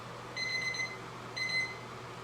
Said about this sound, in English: it's my alarm for my son